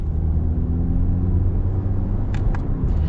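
A 2021 Subaru Impreza Sport hatchback gets underway with a steady, loud low engine and road rumble heard from inside the car, plus a couple of brief higher clicks near the end.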